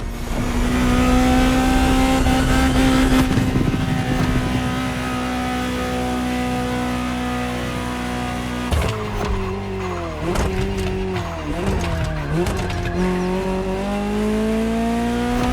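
A Ferrari GTO, a special version of the 308 GTS, driven in the racing game The Crew Motorfest: a loud, steady engine drone that turns into a series of sharp revs and gear shifts in the second half, with no talk.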